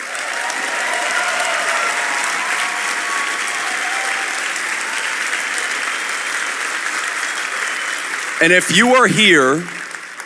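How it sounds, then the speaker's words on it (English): Sustained round of applause from an audience at a political party gathering, steady and full for several seconds before someone speaks briefly near the end. "this round of applause is for you, by the way"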